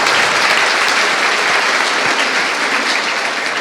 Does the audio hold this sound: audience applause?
yes